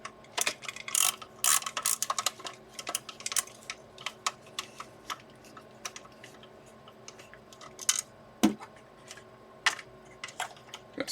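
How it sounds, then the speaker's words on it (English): Screws are undone during the teardown of a Huina 1568 articulated RC dump truck, making a string of sharp, irregular clicks and ratcheting ticks close to the microphone, with bursts of small plastic and metal knocks. "Just gonna keep undoing screws until it falls apart."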